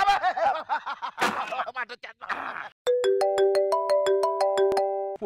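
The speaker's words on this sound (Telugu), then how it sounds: "ఫోన్ వస్తుంది ఇప్పుడే" A phone ringtone plays a bright, repeating melodic pattern of electronic tones, loud and close, after a stretch of laughter and lively talk on a comedy stage.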